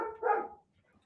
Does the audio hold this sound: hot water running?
no